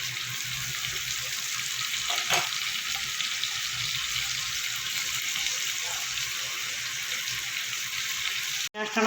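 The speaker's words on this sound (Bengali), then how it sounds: "ফোড়নটা আমার পাঁচ ভেজে নিয়ে এবার দিয়ে দেবো কুচনো পেঁয়াজ" Chopped onions frying in hot oil, a steady, even hiss that holds almost unbroken for the whole stretch, with one brief knock near the end.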